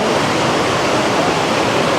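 Rushing water at Krok E-dok waterfall, a steady broadband roar of falling water heard close and loud, constant throughout with no voices over it.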